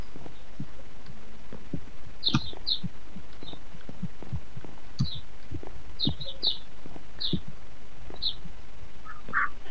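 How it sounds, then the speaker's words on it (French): Little birds chirp in Minecraft, with scattered short, high, clear tweets recurring every second or so over soft, low thuds and a quiet ambient hum. "Oh, j'entends des petits oiseaux, c'est mignon."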